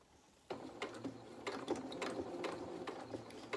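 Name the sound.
sewing machine stitching jeans seam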